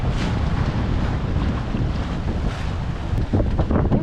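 Strong gap wind buffets a small sailboat at sea, a steady loud roar of wind across the microphone with water rushing beneath, building slightly near the end.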